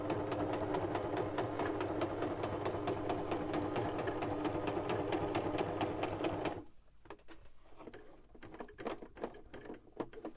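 A sewing machine stitches notebooks in a fast, even mechanical chatter for about six seconds, then stops, leaving scattered quieter clicks and handling noises.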